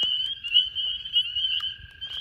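Chorus frogs calling in early spring at a pond, a dense continuous trilling chorus of several overlapping voices, close and steady with brief rises.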